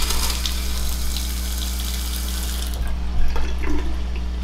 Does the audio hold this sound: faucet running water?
yes